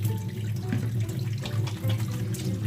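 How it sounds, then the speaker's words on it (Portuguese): Running tap water streams steadily into a sink as hands are washed beneath it, a continuous close splashing flow with no voices. "Você abre a torneira, põe suas mãos aqui sobre a água, embaixo da água."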